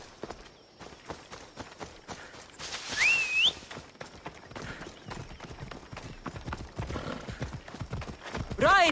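The horse Phobos gallops in Assassin's Creed Odyssey with rapid rhythmic hoofbeats that run throughout at close range, and a short whistle and a whinny break in partway.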